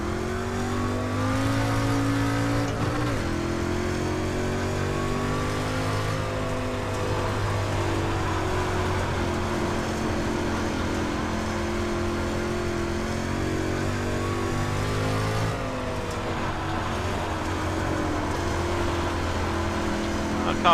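A street stock race car engine in iRacing at Volusia Speedway drones loudly and continuously, its pitch rising under acceleration and falling on lift-off around the oval, with a voice talking over it.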